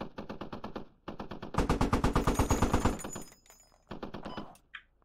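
Suppressing machine gun fire in the tactical shooter game Squad, aimed at an orange building's window: rapid bursts of loud automatic shots in quick rhythmic strings, with brief pauses between bursts and a fainter tail at the end.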